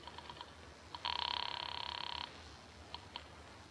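Telephone dialed in an old noir radio drama, with a few short tonal beeps, then a steady electronic buzz lasting about a second, followed by two more brief clicks, faint and alone.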